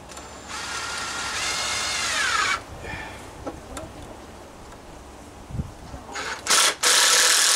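Power driver running screws into a 4-foot dragon fruit trellis outdoors, with a long steady whir for a couple of seconds, a short quiet pause, then two more loud bursts near the end.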